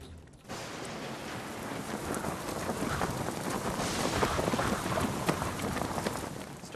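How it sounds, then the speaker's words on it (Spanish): Heavy rain pounds down steadily in a sudden thunderstorm, a dense, continuous roar that swells slightly midway, with no voices over it. "Acaba de aparecer una tormenta y está lloviendo con mucha fuerza"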